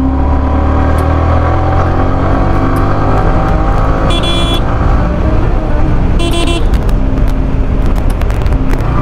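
A Yamaha R15 motorcycle ridden hard through traffic, its engine loud and close with rising and falling revs, wind roar, and a few short horn toots from surrounding vehicles.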